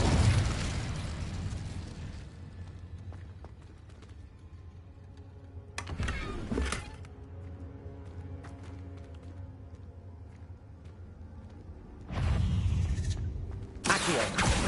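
Incendio fire spells cast in Hogwarts Legacy go off in about four loud, booming blasts, the first and third longer and rumbling, separated by quieter stretches of low ambient game sound.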